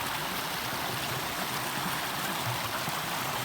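Natural spring water flowing and trickling along the Appalachian Trail, a steady close babble of running water with no voices over it.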